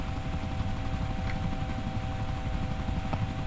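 Helicopter in the Arma 2 DayZ Mod video game, a steady, loud rotor drone that fills the whole stretch without pause, with no talk over it.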